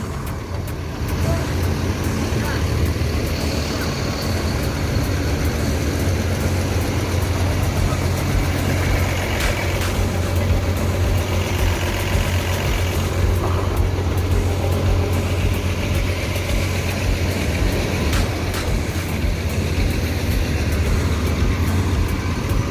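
Several ANS intercity buses sit idling together at the Solok terminal in West Sumatra, their diesel engines making a continuous low drone that holds evenly throughout, with faint distant traffic and no voices.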